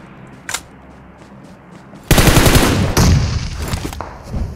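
Bursts of automatic gunfire in a battle royale shooter on the Livik map: one short crack, then a loud sustained volley after a pause, a brief break, and continued rapid firing close by.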